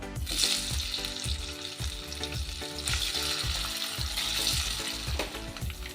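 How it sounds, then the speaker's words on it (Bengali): Tender palm fruit pieces (ice apple) frying lightly in a pan: a constant close sizzle broken by regular soft thumps and scrapes as the pieces are stirred. "এবার অল্প একটু হালকা ভেজে নেব এই তাল শাঁসটা"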